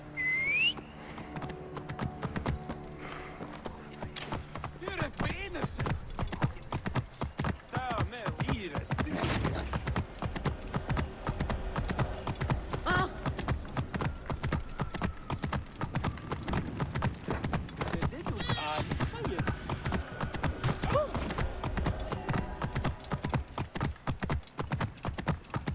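Horse hooves in Assassin's Creed Origins pound in a steady, continuous clip-clop gallop, loud and close, with a brief whistle near the start and occasional faint game sounds.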